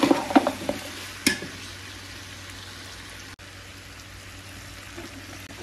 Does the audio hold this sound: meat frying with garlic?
yes